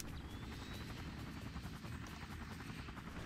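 Helicopter in Far Cry, a steady faint rotor buzz with a quick rhythmic chop, holding at a distance throughout with no voices over it.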